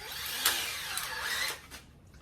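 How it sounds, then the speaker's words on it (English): A power drill whirs in short bursts up close while modifying an Audi TT, motor pitch rising and falling as it bites into material, then winding down. "Drill"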